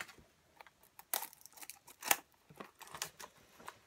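Paper wrapping around a mini perfume is torn and crinkled open in a run of sharp, close rustles and snaps with quiet gaps between.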